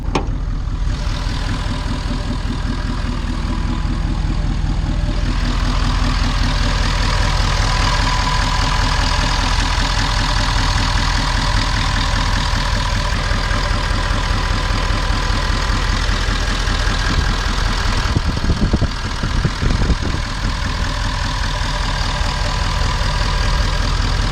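Ford 6.7 Powerstroke diesel with a deleted exhaust and a non-VGT 64.5mm Borg Warner turbo idles steadily and loudly, a continuous low rumble with turbo whine over it for the whole stretch, with no talking.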